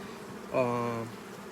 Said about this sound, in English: The bees aren't very aggressive